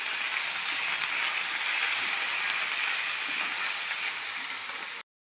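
Whole spices—cloves, black pepper, star anise and bay leaf—sizzling in a mix of butter and oil, a steady bright hiss holding level for about five seconds before cutting off abruptly.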